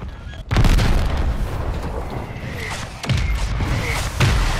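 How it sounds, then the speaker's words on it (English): Mortar strike explosions in a Call of Duty game, heavy booming blasts with deep rumbling low end, several impacts landing in quick succession and loud. "Friendly mortar strike inbound."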